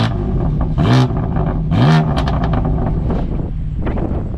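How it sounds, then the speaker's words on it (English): A BMW M4 CS engine with its exhaust valve open revs twice in short bursts, rising and falling with a throaty exhaust bark, close by, then idles with a low rumble. "Let's give it a little baby revs."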